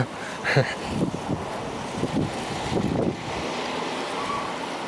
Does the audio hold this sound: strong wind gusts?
yes